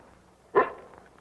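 A single short, sharp bark from a small dog, close and fairly loud, trailing into a faint whimper over a quiet background.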